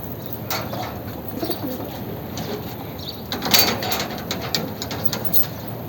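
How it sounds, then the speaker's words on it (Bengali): Racing pigeons bred from birds flown in a 70-kilometre tournament, cooing softly and repeatedly inside a loft, with low rustling and a few louder coos close by. "ওই কবুতরগুলো দেখাচ্ছি আমি তোমাকে।"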